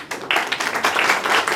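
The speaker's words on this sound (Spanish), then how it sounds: "un aplauso para ellos" An audience applauds for the speakers at a lecture event. A dense burst of many hands clapping at close range is loud and continuous, with no speech over it.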